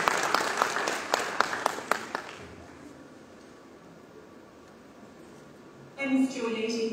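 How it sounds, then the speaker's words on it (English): An audience at a school launch event welcomes a guest speaker from Australia with a couple of seconds of sharp clapping. A hushed pause follows, and then a voice begins speaking. "let's welcome her with a huge round of applause"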